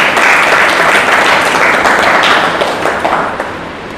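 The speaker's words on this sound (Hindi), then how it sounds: "ताली बजाकर प्रभु की महिमा करें।" Loud sustained applause from a congregation clapping in praise during a church sermon, a dense wash of many hands that carries steadily and fades slightly at the end.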